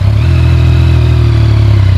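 Stock exhaust of a 2019 Yamaha Niken GT three-wheeled motorcycle, a three-cylinder triple with catalytic converters, idling loudly and steadily up close with a deep, even throbbing rumble throughout.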